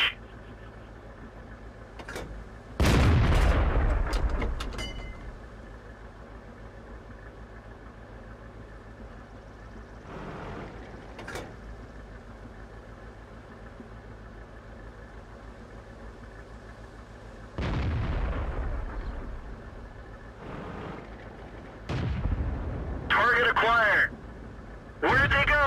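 Tank cannon shots in the World of Tanks game, driving a Hetzer tank destroyer: several loud, heavy booms spaced through the stretch, with low engine rumble between them and radio-style voice callouts.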